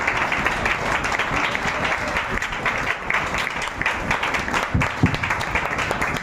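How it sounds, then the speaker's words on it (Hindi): Congregation at a Christian prayer service breaks into loud, sustained applause, dense clapping filling the whole stretch with a steady crowd roar and no voices rising above it. "तमाम जोरदार ताली हो जाए।"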